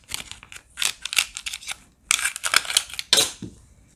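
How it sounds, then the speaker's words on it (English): A CYMA AR-47 airsoft rifle gearbox is pried apart in quick bursts of sharp clicks, rattles and scraping parts, in two close, busy clusters separated by a brief pause. "Now it should be safe to separate the gearbox."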